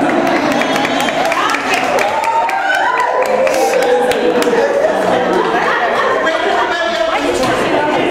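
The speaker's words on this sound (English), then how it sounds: "You can hear applause" A morning budget retreat audience claps loudly and continuously, a dense close wash of applause with crowd murmur mixed in throughout.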